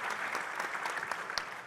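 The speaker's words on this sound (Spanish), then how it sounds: "solicitaría amablemente, les brindamos un aplauso" Brief burst of applause from a conference audience at a housing finance panel, many hands clapping densely and evenly at moderate loudness with no voices.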